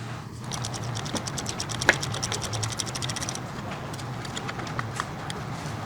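Tools loosening the retaining nuts on the right CV axle shaft intermediate bearing of a 2015-2018 Ford Fusion, a steady mechanical ratcheting clatter with one sharp metallic click partway through, close by.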